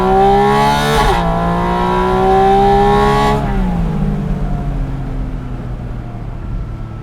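A Porsche 718 Spyder RS with a mid-mounted engine screams up toward 9,000 RPM, a loud rising wail that dips at each gearshift and climbs again before fading off into the distance.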